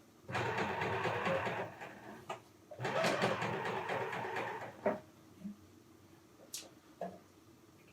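A Bernina 460 overlocker stitches with thick decorative thread in two sustained whirring runs, then stops, leaving scattered small clicks and handling sounds.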